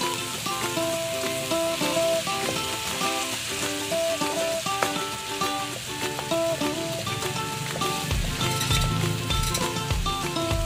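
A pan of mushroom Bicol Express sautés with a bright, continuous sizzle partly masked by louder background music playing throughout.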